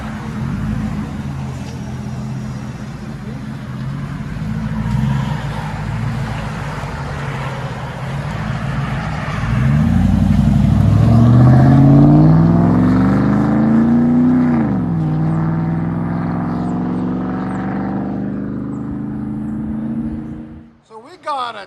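A 2021 Chevy Z71 Trail Boss with a 5.3L V8 rumbles at idle through a Flowmaster Outlaw exhaust, then revs up loudly in a rising, falling sweep before settling back to a deep burble and cutting off.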